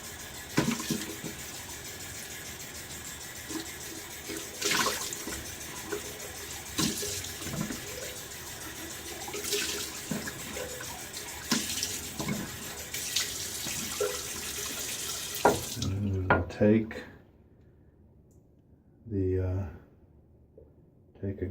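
Water from a tap runs steadily over a shaving bowl being rinsed, a close continuous splashing hiss that stops abruptly near the end, followed by a couple of brief handling noises and a short final splash.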